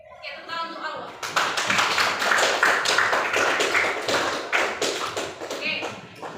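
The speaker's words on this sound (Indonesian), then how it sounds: "tepuk tangan untuk Allah" Classroom applause from a group of students, a loud, steady burst of many hands clapping together that swells quickly and runs for several seconds before tapering off.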